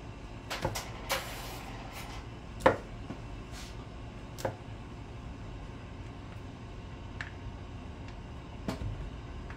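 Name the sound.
knife chopping Snickers bars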